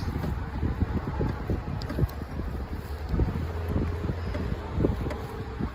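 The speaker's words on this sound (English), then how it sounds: "This wind is cold today." Steady wind buffeting the microphone, low rumbling gusts with faint rustling, continuous and fairly loud throughout.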